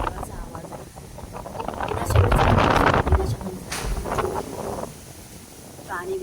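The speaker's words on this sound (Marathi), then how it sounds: "पण भयंकर वादळ आहे" Strong storm wind roars and buffets the microphone outdoors before rain. Loud gusts surge and fade over several seconds, and a faint voice can be heard briefly.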